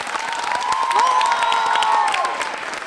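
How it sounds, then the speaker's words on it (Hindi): Applause and cheering erupt from a school audience at a quiz show, a dense burst of clapping with children shouting over it, lasting a few seconds. "तालियां तो बजाइए"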